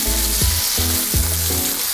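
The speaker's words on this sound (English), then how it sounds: "we have the shrimp, cooking it" Shrimp frying in a pan, a dense steady hiss of sizzling oil with a low pulsing rumble underneath, close and fairly loud, with no voices.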